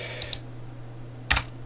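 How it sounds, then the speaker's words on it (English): A few sparse keystrokes on a computer keyboard, two light clicks and then a sharper cluster, set against a steady low electrical hum. "Bad typing."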